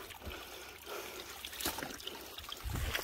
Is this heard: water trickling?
yes